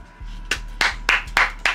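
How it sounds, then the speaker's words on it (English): Hands clap five times in an even rhythm, close and fairly loud, over a low steady hum. "Clap it up."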